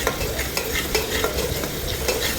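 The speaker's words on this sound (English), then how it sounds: "now I am adding this pasted chili which I have already grinded it, and I fried it for some time." Ground chili paste fries in a pan for a Naga-style pork curry, a loud close sizzle with steady stirring scrapes running throughout, no talking.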